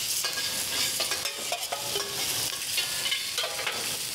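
Shrimp hitting a hot wok with ginger and garlic, stir-fried on a home stove: a loud, steady sizzle with scraping spatula clatter and stirring taps throughout, no voices.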